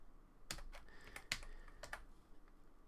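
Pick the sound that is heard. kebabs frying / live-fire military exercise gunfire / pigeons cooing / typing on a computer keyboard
typing on a computer keyboard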